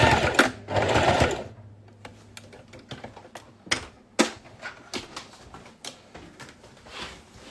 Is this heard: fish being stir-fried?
no